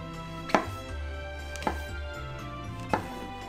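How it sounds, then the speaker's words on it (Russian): A kitchen knife slicing champignon mushrooms into thin slices on a cutting board for pizza, three distinct soft chops spaced about a second apart, close and quiet over faint background music. "А для дешевой нарезаем шампиньон пластинками"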